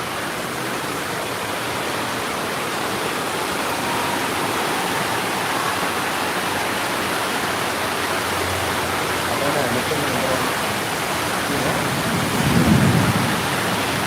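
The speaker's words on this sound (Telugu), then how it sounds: "అది ఉరుములు వచ్చేటప్పుడు బాగుంది" Heavy rain pours steadily during flooding in Malakpet, a dense constant hiss and patter, with a low rumble of thunder rolling in near the end.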